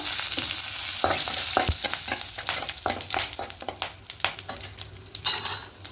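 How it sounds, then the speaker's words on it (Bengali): Whole garam masala, cumin and two dried red chillies crackle and sizzle in a little hot oil for an egg curry. Irregular stirring scrapes and utensil clicks ride over the steady frying hiss. "একটু সামান্য তেল দেবো এবার এখানে গোটা গরম মশলা জিরে আর দুটো শুকনো লঙ্কা ফোড়নে দেব"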